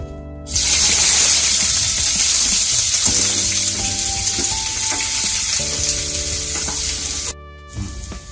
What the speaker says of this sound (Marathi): तेल आपलं गरम झालं आहे। आता यासाठी मी 3 मीडियम साईजचा कांदा कापून घेतला, आता त्याला आपण ऍड करू